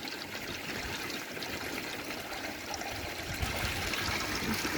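Steady trickling and gurgling of water draining through a bell siphon from an aquaponics grow bed, continuous and close, with no voices.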